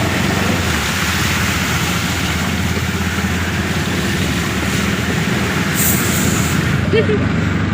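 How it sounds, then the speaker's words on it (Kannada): Heavy rain pours onto a waterlogged road, a loud, dense, unbroken hiss that holds steady throughout. "ಅಬ್ಬಾ ಮಳೆ ಗಾಯ್ಸ್ ಮಳೆ ಮಳೆ"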